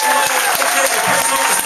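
Comedy club audience at The Stand in Glasgow clapping together on cue, a dense, steady wash of applause filling the room with a faint murmur of voices underneath.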